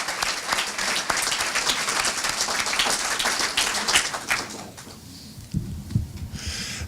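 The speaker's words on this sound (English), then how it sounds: "Let's give them a round of applause." An audience at an agency address applauds school board members, giving dense, sustained clapping from a large crowd that thins out and fades near the end.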